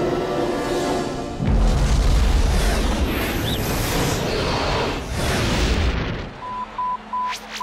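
Explosion in the Galactik Football cartoon: a loud, sustained rumbling blast that rolls on for several seconds and then cuts off, followed by a few short electronic beeps.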